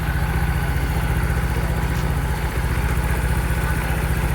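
A Yamaha Mio i 125 scooter, bored out to 59mm with a Kyobo stage 1 cam, idles steadily with a loud, close, even putter and a quiet top end.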